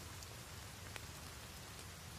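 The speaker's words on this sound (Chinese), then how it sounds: "哇，那还下雨！" Rain falls in The Forest video game, a faint, steady patter of drops on surfaces with an occasional louder tick, no voices.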